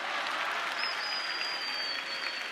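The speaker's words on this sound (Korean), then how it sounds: "박수 부탁드리겠습니다." An audience at a summer camp event applauds in a steady, fairly soft patter of many hands that continues evenly throughout, heard from a little distance.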